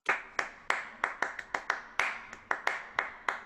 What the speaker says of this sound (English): one of them is a clap